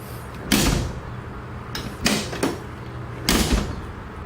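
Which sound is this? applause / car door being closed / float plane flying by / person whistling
car door being closed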